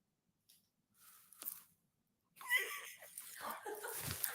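Dogs whimper and wheeze in the background, starting as faint, scattered whines and turning into a louder, continuous mix of breathy whimpers in the second half.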